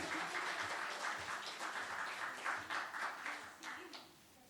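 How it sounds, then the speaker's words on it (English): Sustained applause from an audience at a storytelling and poetry open mic, dense, even clapping that continues for several seconds and tapers slightly near the end, with faint voices mixed in. "Everybody, round of applause!"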